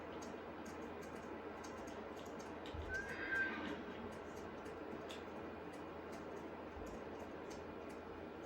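Horses neighing on a farm, a single whinny rising briefly near the middle over a steady, fairly faint background of ambient noise and light ticking sounds.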